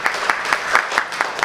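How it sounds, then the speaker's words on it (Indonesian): Audience at a leadership dialogue event claps in a rhythmic, evenly spaced beat of many hands together, loud and fairly close, with roughly five claps per second across the whole stretch. "Boleh tepuk tangan dong"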